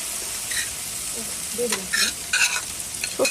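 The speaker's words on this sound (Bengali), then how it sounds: "মাংসটা কষানো হয়ে গেছে এবারে এর মধ্যে সর্ষে বাটাটা দিয়ে দেওয়া হলো" Mustard paste is stirred into frying chicken curry, a bright sizzle under several quick scraping strokes of a spoon against the pan, close up and without speech.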